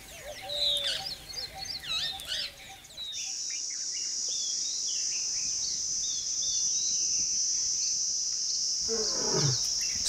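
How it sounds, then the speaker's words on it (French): Bird calls come first, then a steady high insect buzz settles in over a quiet forest in Gir. Near the end, an Asiatic lion lets out a brief, low, descending roar. "le rugissement d'un lion peut s'entendre à plusieurs kilomètres à la ronde"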